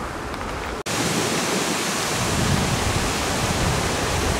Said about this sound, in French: on entend le grondement de l'eau